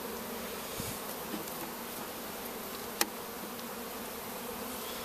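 Honey bees droning inside an opened hive during a comb exchange, a faint, steady buzzing swarm with one brief sharp click partway through and no voices.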